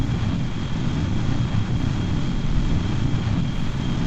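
A heavy video-game plane powered by two Panther jet engines flies at high speed, a steady loud droning roar with a broad rumbling low end and a thin constant whine, no voices over it.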